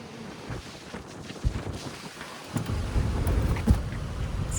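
Strong outdoor wind buffets the microphone in uneven low rumbling gusts, growing heavier toward the end, with no talking.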